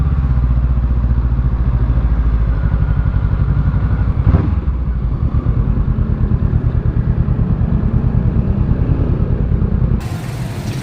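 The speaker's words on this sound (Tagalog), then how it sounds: "So parking lang natin yung motor dito sa hotel." Motorcycle engine running close by as the bike is ridden and brought to a stop at a hotel, a loud steady chugging thrum with a brief surge near the middle before it settles and quiets at the end.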